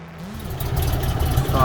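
A VW Kombi camper van engine idles with a low, steady rumble that grows slightly louder, while a person talks briefly over it.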